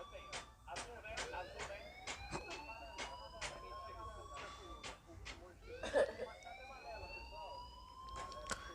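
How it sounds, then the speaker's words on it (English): An alarm rings in the video game Life is Strange, a rising, repeating electronic siren-like tone running steadily throughout with sharp clicks and a busy background beneath it. "please turn off that alarm since that's your job"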